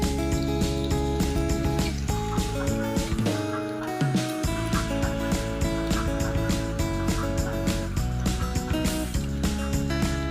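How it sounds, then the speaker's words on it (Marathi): Märklin toy train coaches roll along a model track, a steady loud clatter of rhythmic clicks and rattling wheel noise with a brief dip in the middle, running on alone without talk. "इथून आता आधी एक राऊंड आता ह्याच्यावर डब्यांचे आवाज आपण ऐकणार आहोत"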